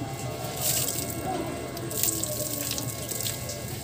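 Water poured from a basin runs as a steady, continuous splashing wash close by, with no talk over it.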